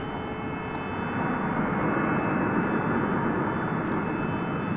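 American Airlines jets at Dallas/Fort Worth airport, including a Boeing 737-800 arriving from Kansas City, producing a loud, steady engine roar that swells slightly and holds throughout, with no talking.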